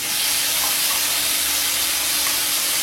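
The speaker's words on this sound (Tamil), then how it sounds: "இப்போ தக்காளியை சேர்த்து வதக்க போகிறோம்" Tomatoes sautéing in a hot pan over softened onions for a spicy onion tomato curry, giving a steady, even hiss and sizzle that holds at one level throughout with no voices.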